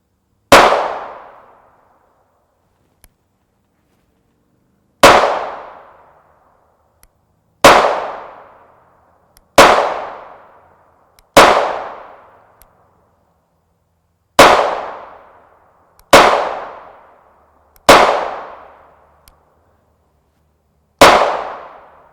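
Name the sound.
pistol shots fired over a chronograph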